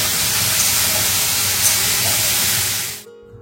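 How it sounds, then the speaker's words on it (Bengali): Cauliflower frying in a pan gives a loud, dense, steady hiss of hot oil close up, which cuts off abruptly near the end. "এখন ভাজছি ফুলকপি"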